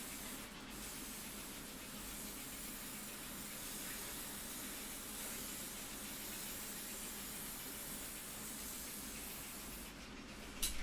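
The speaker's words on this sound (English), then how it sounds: "And what you want is a very light coat of spray glue over the top of the 2mm." A can of spray glue hisses in one long, steady, faint burst while coating 2mm material for a model railway scrapyard, ending with a brief clatter.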